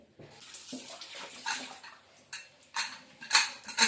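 A pot is rinsed under a running tap, with water gushing in uneven bursts and a faint clank of metal nearby.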